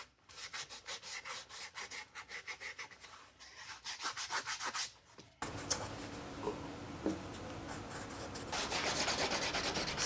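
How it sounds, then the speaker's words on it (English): A trimmed leather project with rounded corners is sanded by hand in rhythmic back-and-forth rubbing strokes, close and steady, then a rougher, denser continuous scuffing takes over for the second half. "sand the crap out of it so it appears more organic"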